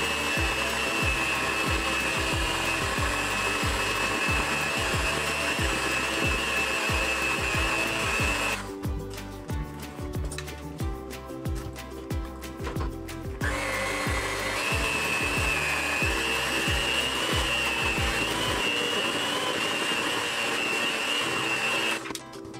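An electric mixer whirs steadily through pound cake batter as flour is added, a close continuous motorised hum that cuts out briefly partway through and then starts up again.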